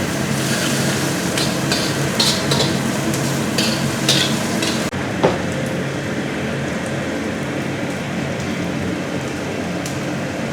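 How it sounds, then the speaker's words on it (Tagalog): Chicken adobo ingredients sautéing in a pan, a steady close crackling sizzle with faint stirring scrapes, easing slightly to a quieter, even fry partway through. "Sautay lang natin siya ng few minutes."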